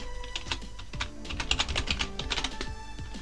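Quick, close keystrokes on a computer keyboard run in a steady rhythm for a few seconds as a web app name is typed on a Linux machine.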